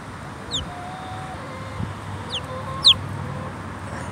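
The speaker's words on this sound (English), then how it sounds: "Look at that, baby chickies. I love having baby chickies on the farm." Newly hatched baby chicks on a farm give a few sharp, high, falling peeps, spaced irregularly over a low steady background hum.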